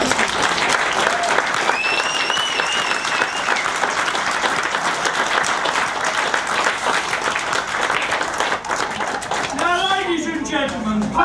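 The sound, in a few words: round of applause at a wedding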